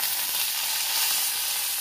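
Dried red chillies and curry leaves sauté in a pan for rasam, filling the clip with a constant close sizzle and no talking.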